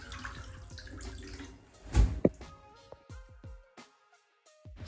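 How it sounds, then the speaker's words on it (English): Water runs and splashes as shampoo is rinsed out of an old wig in a sink, with a louder splash partway through and then lighter intermittent drips and trickles, no talking. "this is the part where I get to rinse out the shampoo from the hair"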